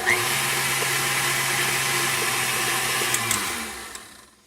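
An electric stand mixer whirs steadily while mixing challah dough with yeast and sugar, a continuous motor hum with a low tone that runs for several seconds before winding down and fading out.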